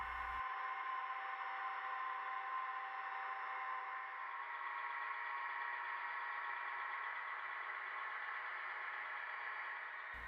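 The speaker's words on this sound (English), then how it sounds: "F4 puts the engine in dynamic brake mode." A model locomotive sound decoder in dynamic brake mode gives a steady, droning engine hum with a continuous whine that holds without change for about ten seconds and stops abruptly.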